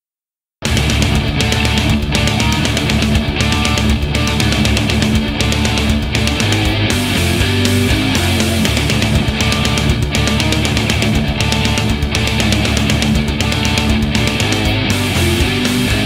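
A full-band rock song plays. Loud, dense guitars, bass and drums keep a driving beat throughout after a brief silent start.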